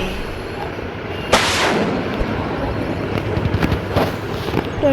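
Gunfire in the Dude Theft Wars video game: one sharp, loud gunshot blast, followed by a lingering rumble and scattered crackling pops that continue to the end.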